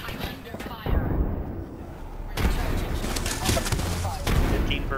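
Gunfire in the Apex Legends battle royale shooter, a steady rattle of distant and mid-range shots rolling through the mix, with a voice talking over the combat.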